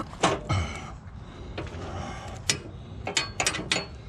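A wrench working a stubborn bolt on a Husqvarna mower deck, producing several sharp metallic clicks and ratcheting scrapes in short irregular bursts, close by, with no voices.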